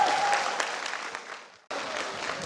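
Audience applause at an outdoor musical event at an annual company picnic on a golf resort, following a bird-song imitation act. The clapping is steady and dense, breaks off abruptly partway through, then resumes at full strength.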